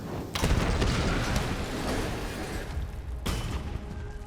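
Gas explosion in the Tomb Raider video game: a sudden loud blast with a sustained rumbling roar, then a second sharp burst near the end.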